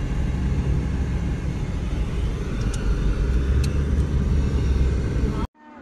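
Steady road traffic on a coastal road near Boulders Beach in Cape Town, a continuous loud rumble and hiss of cars passing close by, with no speech, cut off abruptly at the end.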